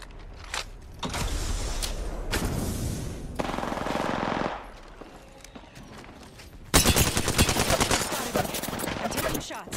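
Bursts of automatic gunfire from the Apex Legends video game come in rapid, loud volleys. Sustained stretches of firing alternate with short gaps and a heavy final barrage, with no talking.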